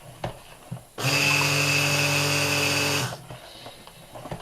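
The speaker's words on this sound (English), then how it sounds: "the more you mix it, the longer you can use the stick blender for" A stick blender mixing soap batter whirs steadily for about two seconds, loud and close, starting and stopping abruptly amid quiet surroundings.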